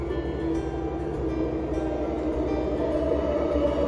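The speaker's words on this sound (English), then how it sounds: "Here comes the Perth bound train," A Perth-bound Midland line train pulls into the platform at a station, giving a steady, close rumble and low mechanical hum with a faint tonal whine, continuous and unaccompanied by talk.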